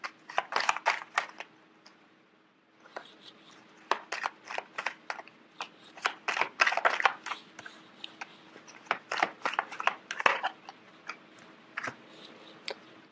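Rapid papery flicks and riffles of tarot cards being shuffled in uneven bursts, close up, with a brief pause before the shuffling resumes; no talking.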